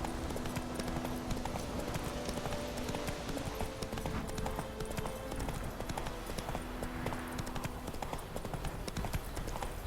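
Horse hooves galloping in The Witcher 3, a fast, steady clip-clop rhythm running throughout at close range, with game ambience behind it.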